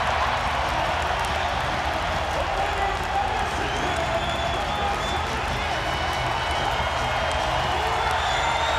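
A packed arena crowd of about 16,000 at a college wrestling match roars continuously, dense sustained cheering and shouting filling the whole stretch at high level.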